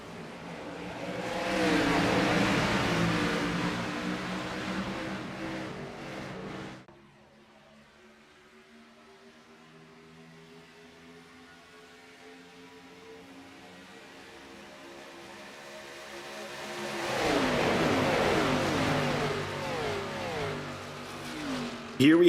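Race cars and a pace car in the IORA 250 roar past on a circuit. A loud engine pass fades to a distant hum, then another car swells close and loud again.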